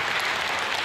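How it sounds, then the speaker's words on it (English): A small group at a basketball practice gives players a brief round of applause, a short burst of close, dense clapping lasting under a second. "give these guys a little quick round of applause"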